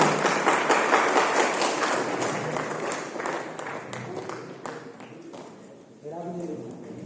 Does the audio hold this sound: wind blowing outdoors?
no